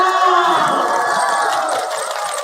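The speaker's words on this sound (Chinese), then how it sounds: "掌声欢迎" A steady roar of crowd cheering and clapping at an esports competition fills the space, loud and sustained without pause.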